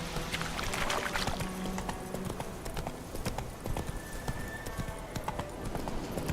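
The horse Roach trots in The Witcher 3, its hooves giving a steady clip-clop rhythm over quiet game ambience, close and continuous throughout.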